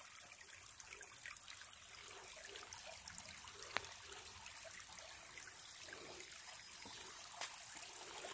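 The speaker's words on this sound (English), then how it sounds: "a little tiny babbling brook coming off a mountain right through the middle of a ramp" A small babbling brook runs down off a mountain through a patch of wild ramps, giving a steady trickle and splash that stays moderately close and continuous, with no voices over it.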